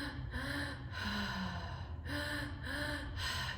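Sharp inhaled gasps and snorting breaths during a guided breathwork exercise, repeating in a loose rhythm over a steady low hum, close and fairly loud with no talking.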